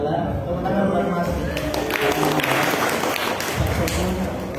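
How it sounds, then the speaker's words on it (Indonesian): An audience applauds musician Mas Tahta at a Javanese wayang performance in the Gedung Monod Diephuis hall, a dense and continuous clapping that holds steady from start to finish, with a voice talking over it. "tepuk tangan buat Mas Tahta"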